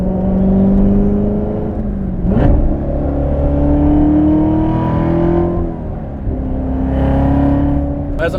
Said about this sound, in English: this car does have rev match